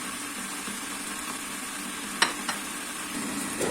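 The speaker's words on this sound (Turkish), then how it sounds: "Soğanlarımızı pembeleşinceye kadar kavuracağız." Steady sizzling of onions sautéing in a pan, with a couple of sharp clinks of a utensil partway through; no one speaks.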